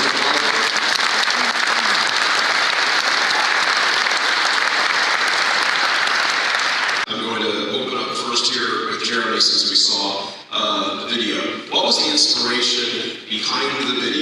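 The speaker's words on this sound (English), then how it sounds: "Give them a big warm applause." Audience applause for four panelists at a convention, a dense, steady wash of clapping for about seven seconds that then gives way to a person talking.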